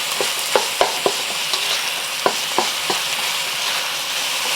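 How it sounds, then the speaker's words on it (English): Pork sizzles and fries in a wok, a steady hiss punctuated by several sharp scrapes and clicks of stirring at irregular intervals, close and without talk. "it's just easier to stir all the things in a wok."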